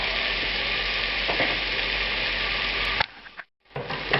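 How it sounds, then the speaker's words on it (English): Apple pieces frying in vegetable oil in a hot pan, as for a tonkatsu sauce: a steady, loud, dense sizzle that runs continuously, briefly drops out near the end, then resumes. "I'm going to add about an ounce of vegetable oil and the apple."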